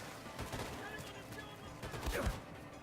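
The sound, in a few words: gunfire in the video game Wolfenstein 2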